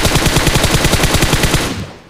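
Rapid automatic gunfire in the mobile shooter BGMI, a fast steady burst of loud close shots lasting nearly two seconds before cutting off, with no talking.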